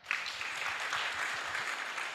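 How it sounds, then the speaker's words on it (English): Audience applause at a ceremony marking HURIPEC's 30th anniversary, a steady, dense wash of many hands clapping at moderate distance, sustained evenly without talk. "let's clap for that"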